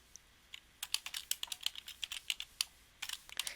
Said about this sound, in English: let's go ahead and type in a borrowing